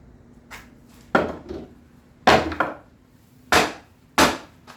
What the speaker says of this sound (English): I'm gonna knock these two guys off with the hammer, pull the nails